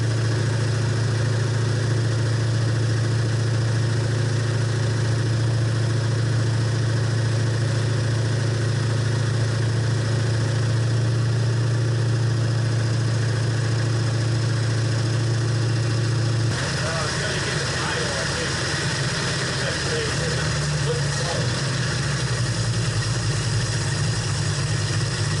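A 1966 Ford Mustang engine idles with a steady low drone while its carburetor accelerator pump is worked by hand, then the sound shifts abruptly to a rougher, more uneven running note partway through.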